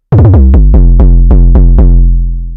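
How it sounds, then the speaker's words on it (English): A deep, booming 808 bass synth made with Ableton Drift hits repeatedly with punchy attacks, the low tone ringing out and slowly fading after the last note. "Today we're gonna make a fat 808 sound with Ableton's drift."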